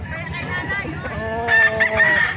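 A rooster at a market in Bocaue crows once, loud and close, a drawn-out rising and falling call with clucking and crowd noise around it.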